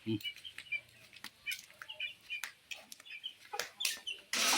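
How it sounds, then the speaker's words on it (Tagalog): Chickens cluck and flutter nearby in scattered bursts, with wings flapping and a louder rustle at the end. "Ito yung mga manok."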